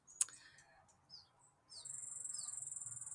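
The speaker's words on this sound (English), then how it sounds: "Got the bush tits coming through." Bushtits call in a busy passing flock outdoors, giving faint, thin high chips and short tweets, followed by a steady pulsing high insect-like trill, with no talking.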